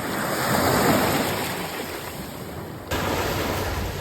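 Sea waves washing onto a beach roll in with a broad, steady roar, swelling and easing under gusts of wind buffeting the microphone, loud and close with no talking.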